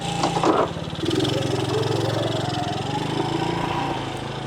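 A small Cub motorbike engine runs close by with a steady, throbbing putter that picks up slightly after a brief opening rumble, continuing evenly with no talking.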